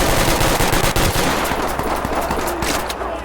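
A magazine emptied in the tactical shooter game Ready or Not, a dense burst of rapid gunfire, loud and continuous for about three seconds, slightly fading toward the end.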